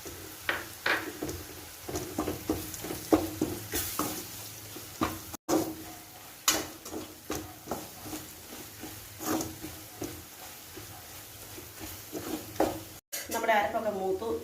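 Thick masala paste with a tablespoon of chicken masala powder stirred and roasted in a pan for a kadachakka roast, with repeated spoon scrapes over a low sizzle and a brief sharper clatter near the end.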